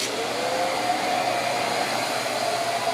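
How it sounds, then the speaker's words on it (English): A CNC router spindle engraves a wooden cutting board at reduced spindle speed, giving a steady, even whine with a soft airy hiss that runs unbroken and fairly loud throughout. "We usually turn the spindle speed down on this one more than anything because it's quieter and it's easier on the ears."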